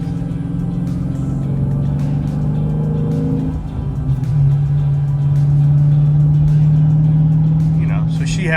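A Dodge Challenger Scat Pack V8 with a manual transmission idles with a steady deep exhaust drone, then revs up once and holds a louder, richer tone close by. Faint background noise sits beneath it.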